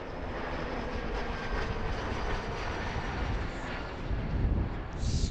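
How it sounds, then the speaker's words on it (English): An Air Canada Jazz airliner from Montreal passes at Philadelphia airport, a broad steady engine roar filling the air and swelling slightly toward the end, heard alone without talk. "This should be Air Canada Jazz from Montreal."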